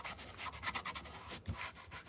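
Dollar Tree wood planks being rubbed down by hand, a steady scratchy sanding rasp with quick repeated back-and-forth strokes, close and fairly quiet, with no voices.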